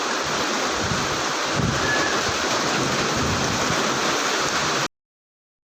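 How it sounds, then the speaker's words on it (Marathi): Dense, steady downpour roaring evenly for nearly five seconds, loud and close, then cutting off abruptly to silence. "जोरात पाऊस येईल आता"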